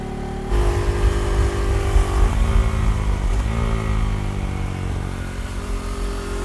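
KTM Duke motorcycle ridden hard on fresh Pirelli Diablo Rosso 3 tyres, its engine revving loudly and steadily with a few quick gear changes where the pitch drops and climbs again, heard close over wind noise.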